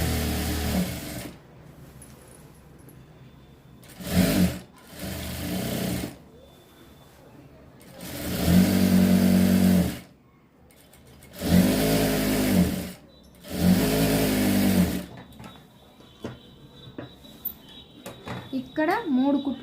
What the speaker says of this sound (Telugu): మూడవసారి కూడా లైనింగ్ క్లాత్ పైనే కుట్టుకోవాలి.